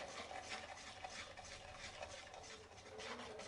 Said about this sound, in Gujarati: ઘી સાથે ડ્રાયફ્રૂટ્સ પણ એકદમ સારી રીતે સંતળાઈ જશે.